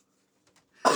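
A person coughs after chugging milk, one abrupt, harsh throat-clearing cough bursting in close and loud at the very end after near silence.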